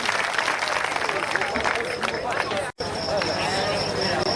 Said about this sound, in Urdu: زوردار تالیوں سے استقبال کریں